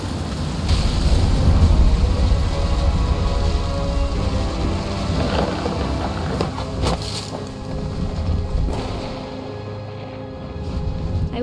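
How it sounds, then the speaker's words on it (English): Thunder in the video game What Remains of Edith Finch, a deep sustained rumble with rain and wind noise running steadily throughout, no voices. "Thunder sounded much too close and full of angry power."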